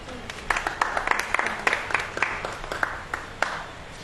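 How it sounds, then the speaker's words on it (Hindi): Scattered audience clapping at a Christian sermon gathering, a handful of sharp, uneven claps spread across a few seconds over a low background murmur. "ताली बजाओ।"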